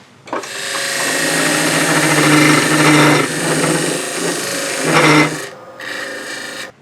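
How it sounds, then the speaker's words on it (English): A thin parting tool cuts into hard, dense Palo Santo wood spinning on a lathe, producing a loud, continuous rasping hiss that surges and eases over several seconds before stopping and briefly resuming. "I'm going to use the thin parting tool"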